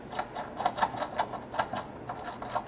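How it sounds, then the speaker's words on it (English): A ratchet wrench removes bolts, giving a close, steady run of rapid mechanical clicks in short repeated bursts with no talking. "So now taking these bolts off"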